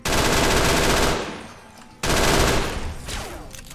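Fallout: New Vegas video game gunfire from companion Eddie against giant ants: two loud, dense bursts of rapid automatic fire, the first fading out after about a second, the second following after a short pause.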